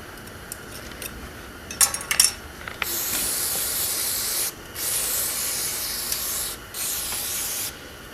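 A few light clicks and taps, then an aerosol can of carb cleaner sprays onto a Subaru EJ22 engine in three long, loud hissing bursts separated by short pauses.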